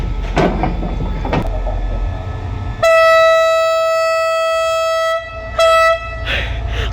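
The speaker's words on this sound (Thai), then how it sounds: "ก็ขออนุญาตตัดไปตอนที่ขบวนรถออกเลยนะครับ" A Thai express train departs Si Sa Ket railway station in Thailand: one long, loud horn blast is followed by a second, shorter blast, over a low rumble and background noise.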